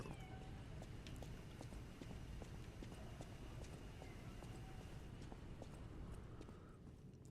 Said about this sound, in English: Why is there a cat?